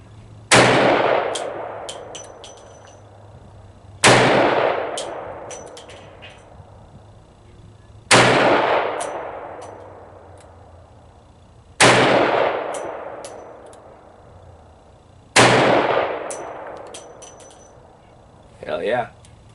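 A Desert Eagle fires .44 Magnum 240gr RNFP rounds at a target 15 yards away, five loud, sharp blasts roughly every four seconds, each ringing out and decaying, with a faint clink at the end.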